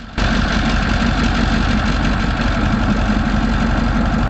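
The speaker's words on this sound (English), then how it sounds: "Cummins K2000E V16 engine." A Cummins K2000E V16 diesel engine running at a steady idle, a loud, continuous low rumble with an even, throbbing pulse from start to finish, heard alone.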